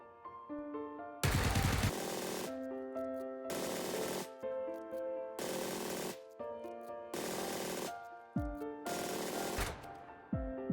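A UMP9 submachine gun fitted with full attachments fires in PUBG, in six rapid automatic bursts separated by brief pauses, loud and up close.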